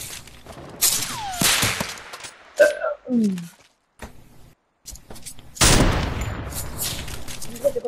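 Sniper shots in a video game ring out in sharp, loud bursts amid other in-game effects, with players talking over the action.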